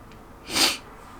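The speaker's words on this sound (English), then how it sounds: "Hold on. I have a sneeze." A single short sneeze bursts out close by in a quiet room, a sharp breathy blast lasting a fraction of a second.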